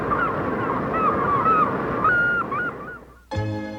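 Gulls scavenging scraps left by bears call repeatedly over a busy outdoor background, loud squawks and wailing cries overlapping before a brief lull and a sharp harsh call at the end.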